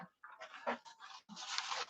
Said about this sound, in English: He's an amazing dog.